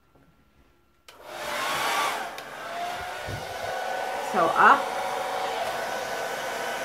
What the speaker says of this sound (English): so back to the blow dryer.